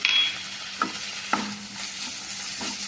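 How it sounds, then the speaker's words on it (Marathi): Capsicum and ginger garlic paste sauté in a pan over a low flame, giving a soft steady sizzle with a few distinct scraping stirs of a spoon at intervals, close and without speech. "बारीक गॅसवरती हे सगळं परतून घ्यायचं"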